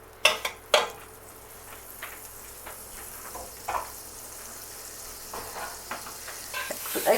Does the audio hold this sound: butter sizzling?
yes